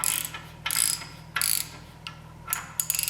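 A ratchet wrench tightens an upper ball joint on the Dana 44 front axle of a 1980 Chevy Silverado. Four short, close bursts of rapid metallic clicking come in separate strokes, with no one talking.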